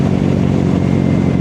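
A Yamaha NMAX scooter engine runs steadily nearby, a low rumbling drone that holds constant for a brief moment.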